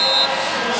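Buzzer ending the first quarter of a Middle Tennessee vs Louisville women's basketball game, a steady electronic tone sounding for about a quarter second over arena crowd noise.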